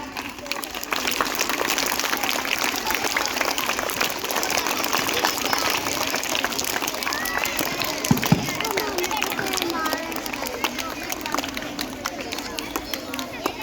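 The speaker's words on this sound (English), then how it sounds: "Children, clap." Children at a school Diwali and Chhath Puja celebration clapping steadily and continuously, a dense patter of many small hands from a group, with faint chatter mixed in the background.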